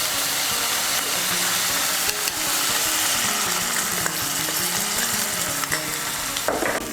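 Spice paste of coriander and chili powder fries in a pan for chira khichuri with a steady, close sizzle and hiss, broken by occasional clicks of stirring.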